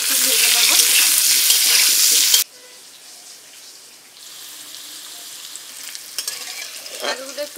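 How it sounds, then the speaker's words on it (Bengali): Potatoes frying in mustard oil in a wok, giving a loud, dense sizzle for about two seconds that then drops to a much quieter, steady crackle with small pops. "কড়াইতে একটু সর্ষের তেল দিয়ে দেব। প্রথমে আমি আলুগুলো ভেজে নেব"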